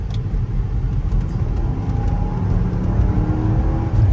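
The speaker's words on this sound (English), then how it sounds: "This is a V8 gas engine, naturally aspirated." A naturally aspirated V8 gas engine in a 2010 Land Rover HSE pulls under acceleration with a steady, rising drone from inside the cabin, loud and continuous without any talk.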